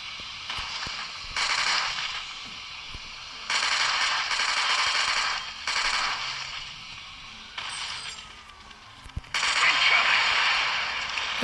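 Gunfire from the first-person shooter game Unkilled comes in loud, blocky bursts of rapid shots with brief gaps between volleys, close and dominant over a steady game background.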